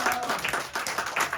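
Applause breaks out for an accounting team being called up at a church team-structure presentation, a short burst of moderate clapping from the gathered congregation that rises and falls, with faint voices underneath.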